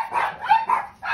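A pet dog barks at home, three or four quick, close, sharp woofs in a short burst with brief gaps between them.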